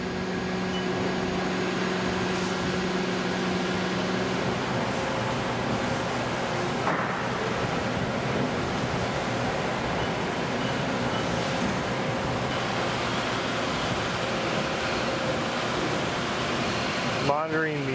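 A CNC mill runs a scallop finishing toolpath on an injection mold at low spindle load, giving a steady broadband whir and coolant-like hiss throughout, with a faint tone change midway and a brief sweep at the end.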